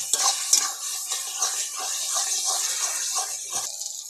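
Chicken pieces stirred with cumin powder and Kashmiri chili powder in a pan, a steady close scrape and clatter of a spoon with a light sizzle underneath, continuous without pauses.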